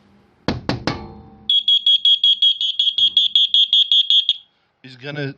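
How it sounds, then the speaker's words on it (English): A vibration-triggered window or door security alarm shrills in rapid repeated pulses for about three seconds, loud and close, after a few sharp knocks; a brief voice follows. "is gonna set off a very loud alarm"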